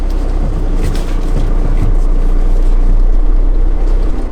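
A white van is driven along a road in Spain, with a steady low engine drone and road rumble running loud and continuous throughout, with no talking.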